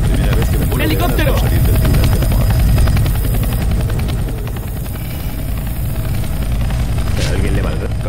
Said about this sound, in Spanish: ¡un helicóptero!